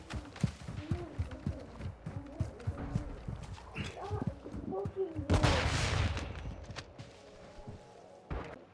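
Rapid bursts of gunfire from a Search and Destroy match in the video game Modern Warfare 2, with repeated sharp shots and a denser explosive stretch midway, loud and close throughout.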